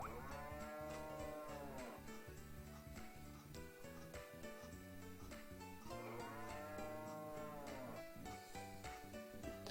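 Cartoonish cow moos from the farming video game Story of Seasons as a cow is milked, set against constant bright game music that runs loud and steady throughout.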